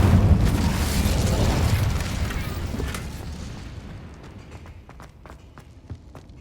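A fire spell cast in Hogwarts Legacy: a loud roaring whoosh of flame that swells at once, then slowly fades over several seconds into scattered faint footsteps and small clicks.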